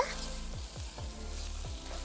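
Pachchaperumal rice fries and is stirred in a pan, a soft continuous sizzle broken by several scraping stirs in quick succession.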